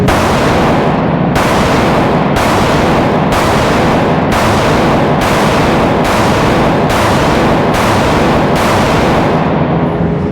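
HK rifle gunshots during a grip drill, about nine loud, evenly spaced blasts roughly once a second over a dense, constant roar of other gunfire and range noise.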